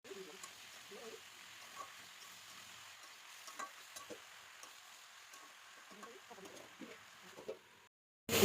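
Malabar spinach (pui shak) going into a pan of onion, salt and chili being fried and stirred, giving a faint, quiet sizzle with soft stirring scrapes and a few light clicks, with birds chirping in the background.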